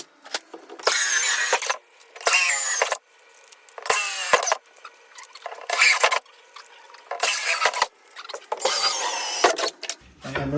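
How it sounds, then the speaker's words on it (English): A drill bores holes into a plastic trash can in short, loud, close bursts, about seven in a row, each separated by a brief pause, with no talking. "And now we're just going to drill the rest of the holes."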